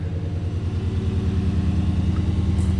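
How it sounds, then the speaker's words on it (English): A Chevrolet Colorado ZR2 truck with a Flowmaster exhaust idles after a remote start, giving a steady, loud, pulsing low rumble up close with no voices. "Just did a little remote start action."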